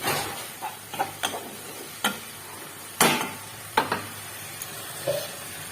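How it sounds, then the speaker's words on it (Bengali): Turmeric is stirred into a pan during cooking for a dhaba-style shahi paneer, with a low sizzle and spaced scraping strokes of a spoon, several sharp and close. "হলুদ এবার একটু নেড়ে নিয়ে ঢেকে দেবো"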